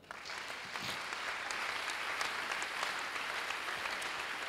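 A church congregation applauding during a French-language sermon, sustained dense clapping throughout, loud and steady with no speech over it.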